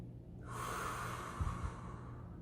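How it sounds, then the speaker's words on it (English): A single big, deep breath taken slowly and steadily, close and clear, lasting a couple of seconds with a soft airy hiss and a faint low hum underneath. "take a big breath like this"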